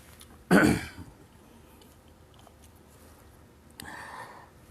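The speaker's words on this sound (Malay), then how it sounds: "batuk sikit" A single person gives a sharp cough and a throaty clear near the start, then after a quiet stretch makes a second, softer rasping clear near the end.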